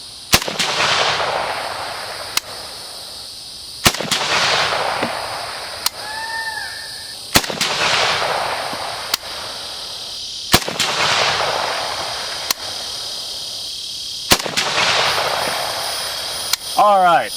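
Rifle shots from a 7.62x39 rifle fired at a target outdoors, about eight loud sharp cracks spaced one to two seconds apart, each trailed by a rolling echo.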